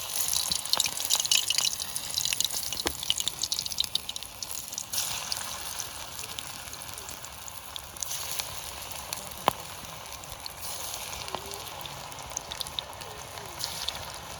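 Pakoras dropped into hot oil fry with a faint, steady sizzle and scattered crackling pops, quiet and continuous throughout.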